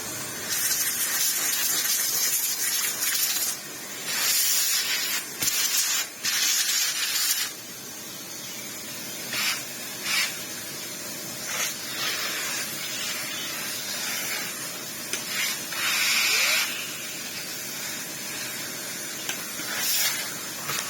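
Water sprays and hisses steadily over parts of a Beldray Airgility 22v cordless vacuum as they are washed, a long continuous rush broken by brief pauses and changes in force, heard alone without talk.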